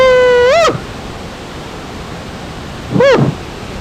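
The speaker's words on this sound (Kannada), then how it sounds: "ಅದೇ ಈ ಸ್ಥಳ, ಇರ್ಪು ಜಲಪಾತ." Irpu waterfall, water plunging down in a steady hissing roar, interrupted near the start and again near the end by two short rising-and-falling whistle-like calls.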